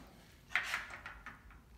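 The door of an Electrofreeze FT-1 batch freezer swings shut with a soft metallic clunk and a brief rattle, faint and close in a quiet room, with no talking.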